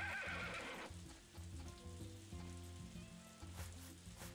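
A horse whinnies loudly at the start, a bright shrill burst lasting about a second, followed by lower stepped tonal sounds and a steady sizzling hiss that continue under the rest of the clip with no one speaking.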